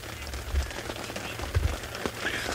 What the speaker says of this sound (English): And you can hear the rain is starting to fall quite a lot